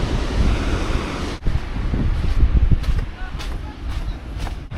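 Ocean surf breaking on a beach along the California coast near Carmel and Big Sur, a steady broadband wash with gusty wind buffeting the microphone throughout.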